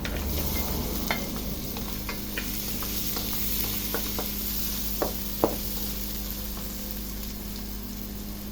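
Fried leftover humba sizzles steadily in a hot pan, with a few sharp knocks and scrapes of a utensil stirring against the metal.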